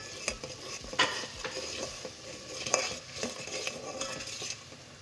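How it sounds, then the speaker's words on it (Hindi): Crushed chili, chili powder and salt are stirred and fried in a pan for aloo bharta, with a soft sizzle under repeated scrapes and clinks of a spoon against the pan. "अब इसके साथ हम ये कुटी मिर्च और पिसी मिर्च और ये जो नमक था ये हम डाल देंगे इसके अंदर। इसको भी थोड़ा सा भून लेंगे।"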